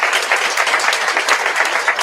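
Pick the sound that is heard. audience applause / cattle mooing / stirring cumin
audience applause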